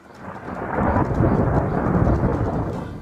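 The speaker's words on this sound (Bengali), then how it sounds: "সেই সঙ্গে হতে পারে বজ্রপাত" Loud, deep thunder during a storm swelling in and rumbling steadily for several seconds, with rain falling underneath and no voices.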